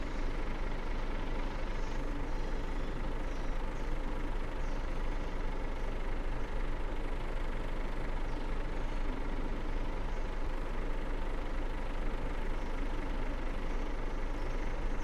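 A truck engine idles steadily in World Truck Driving Simulator, parked at a company yard in Araguaína, giving a continuous low rumble with a constant, even level and no talk.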